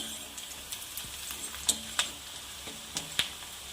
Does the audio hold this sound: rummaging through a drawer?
no